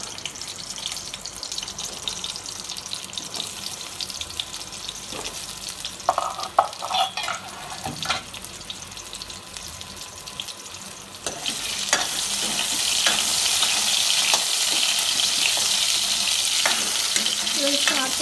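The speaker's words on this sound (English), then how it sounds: "So once the oil becomes hot, we will add these balls." Dal balls frying in hot oil, a soft sizzle with stirring scrapes that swells into a louder, dense, continuous hiss for the last several seconds, no talking.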